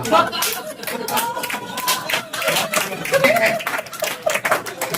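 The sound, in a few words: woman in black suit clapping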